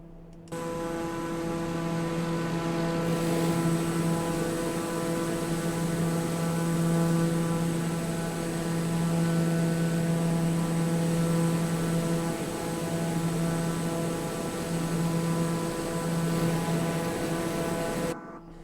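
A TBM 850 turboprop climbing in Microsoft Flight Simulator gives a steady, loud engine drone with strong tonal hum that holds unchanged for nearly twenty seconds before cutting off.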